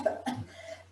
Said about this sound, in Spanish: empecemos a producir tos